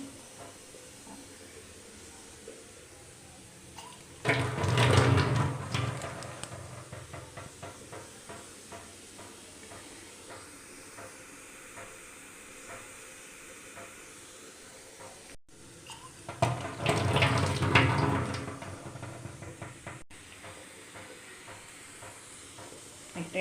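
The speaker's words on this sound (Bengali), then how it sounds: "ভাত বসিয়েছি ডাল সেদ্ধ বসিয়েছি রান্না বসিয়ে দিয়েছি এই যে ভাত ভাতে জল ফুটে গেছে" Pots of rice and lentils boil on a home stove, giving two loud bursts of rushing steam hiss and bubbling separated by a quieter stretch of low simmering.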